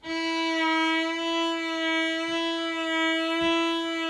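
A sustained sung or bowed tone holds steady with a gentle, even wavering in pitch, a few soft low thumps underneath.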